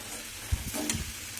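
Sago dropped into a hot pan holding fried cashews, raisins and whole cardamom, a short soft thud and scraping rustle followed by a quiet brief sizzle, with no talking.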